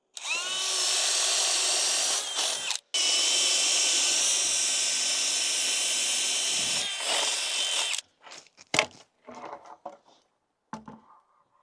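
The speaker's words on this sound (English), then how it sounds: "You could only drill these out an 1/8 inch over what the actual bolt diameter is" Power drill boring out bolt holes through steel plate washers during house foundation work, a loud sustained whine running about eight seconds with one brief break, then trailing off into short bursts and clatter.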